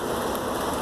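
Steady rain falls outside a home garden greenhouse in mid-June as a constant, dense hiss of drops on surfaces, even and unbroken throughout.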